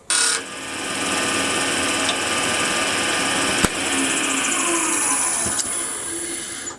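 A lathe or power tool tapers the edge of a cylinder mower roller from 55 to 50 millimetres, giving a steady, continuous machining whine and hum with one sharp click midway, close and alone with no talk.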